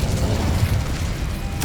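A fire spell cast in the video game Hogwarts Legacy, heard as a dense, rumbling magical burst that holds loud and steady for its whole length, with no talk over it.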